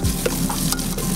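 Carrots stirred in a frying pan sizzle loudly and close up, with scraping spoon strokes and bumps over a constant frying hiss, and no voices.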